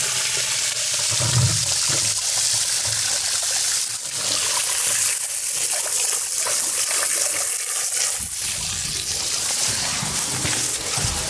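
Water drains away steadily after a blocked drain is cleared of roots, a continuous close gushing and trickling that stays loud throughout, with small splashes and gurgles.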